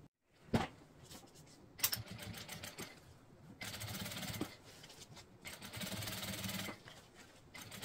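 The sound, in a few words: sewing machine topstitching around a circular bag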